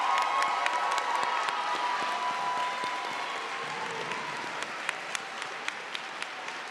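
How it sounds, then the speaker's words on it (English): Audience applauding graduates at a spring medical laboratory technology and nursing pinning ceremony, steady clapping throughout with a few sharp individual claps standing out near the end and a faint cheer early on. "Let's give our graduates another round of applause."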